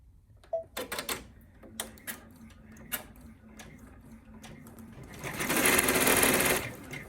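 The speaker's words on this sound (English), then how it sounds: "Once your tack down stitch finishes, you're going to stitch the next step, which is your finishing stitch." Brother PR1055x embroidery machine sewing an appliqué tack-down stitch: scattered clicks and taps at first, then a dense, rapid burst of needle stitching rises in the last couple of seconds and stays close and fairly loud.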